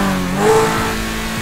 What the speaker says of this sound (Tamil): இன்ஜின் சவுண்டு சும்மா வேறு லெவலில் இருக்குது